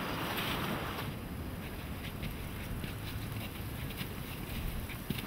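Continuous broadband rush of snowmelt water running on Mount Baker, steady and fairly loud, with no voices.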